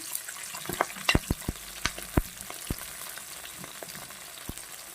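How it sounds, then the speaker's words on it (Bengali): Onion and capsicum frying lightly in oil left from frying potatoes and eggs, a low steady sizzle punctuated by a series of distinct spatula knocks and scrapes on the pan, close and unaccompanied by talk. "আলু ডিম ভাজার তেলে আমি দিয়ে দেব পেঁয়াজটা আর ক্যাপসিকামটা এটা আমি একটু হালকা করে ভাজবো"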